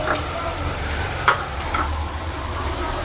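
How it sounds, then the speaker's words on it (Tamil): Masala spices and chilli powder frying and being stirred in a pan on a low flame for an onion samosa filling, giving a soft, steady sizzle with faint scraping, close and quiet. "இப்போது அடுப்பை லோ ஃப்ளேமில் வச்சுட்டு மசாலா போட்டுக்கலாம்."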